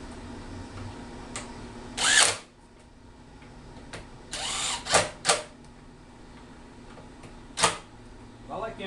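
A drill boring into MDF panels while building a fourth-order subwoofer enclosure: several short, sharp bursts spaced a few seconds apart over a quiet room background, each lasting under half a second.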